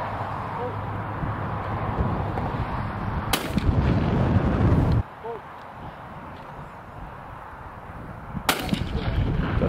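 Shotgun shots at clay pigeons on a farm in the Scottish Highlands, a couple of sharp loud reports several seconds apart over steady outdoor noise and background talk.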